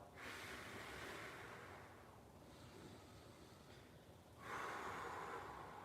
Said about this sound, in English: Big exhale through the mouth.